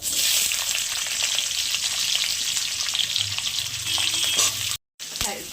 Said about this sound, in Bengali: তেলটা গরম হয়ে গেছে, আগে পেঁয়াজগুলো দেবো।